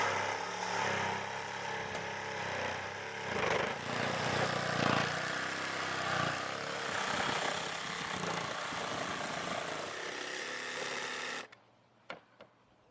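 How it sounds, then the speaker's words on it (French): A jigsaw cuts through wooden roof battens while a skylight opening is made in a roof, giving a loud, steady buzzing saw noise that runs continuously for about eleven seconds and then stops abruptly, leaving a few faint knocks. "Découpez maintenant les voliges en utilisant une scie sauteuse."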